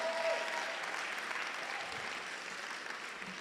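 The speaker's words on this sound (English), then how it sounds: "let's give them a round of applause for standing by us" Graduation audience applauding for a leadership school's class of 2021, a steady wash of many hands clapping that holds at even volume throughout, with no voices on top.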